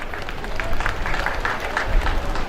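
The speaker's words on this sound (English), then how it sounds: "A round of applause for Unimed." An audience at a university convocation ceremony for Unimed in Ondo claps steadily at moderate volume, a dense patter of applause with a faint crowd murmur that carries on without a break.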